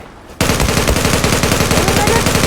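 Rapid automatic gunfire from an online first-person shooter game, Zula, bursting in abruptly and rattling on continuously at close range and high volume.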